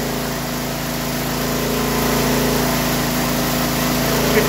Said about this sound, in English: the generator automatically increases RPM to match our set point